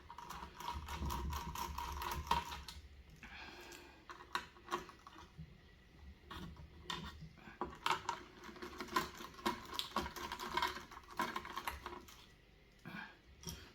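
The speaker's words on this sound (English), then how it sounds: "So we need to unscrew these." Small screws being unscrewed while building a desktop PC, giving a steady run of close, quiet mechanical clicks and ticks that continue throughout with no talking.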